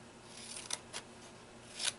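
Scissors snipping through stamped paper to cut out a small flower centerpiece, a few quiet, crisp snips spaced apart with a slightly louder cut at the end, close by and without talk.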